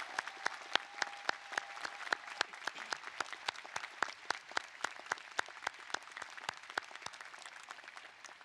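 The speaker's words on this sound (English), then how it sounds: "Let's have one more somber but loud round of applause for these students that we lost and for their families." An audience at the Cal Poly 2025 College of Engineering commencement ceremony gives a sustained round of applause, a steady, somewhat distant wash of many hands with crisp individual claps standing out throughout.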